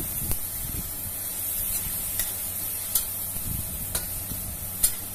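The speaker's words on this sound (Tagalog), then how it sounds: "And then mix natin guys." Spare ribs and eggplant in a pan, stirred with a few short scraping strokes over a low steady sizzle, the spoon clicking against the pan now and then.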